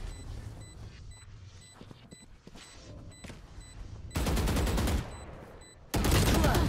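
Bursts of gunfire in a shooter video game during a competitive ten-player match, scattered shots early then two loud sustained volleys near the end, close and dominant.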